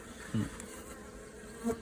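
Honeybees hum steadily close by at a hive entrance, with a couple of louder buzzing passes as individual bees fly near.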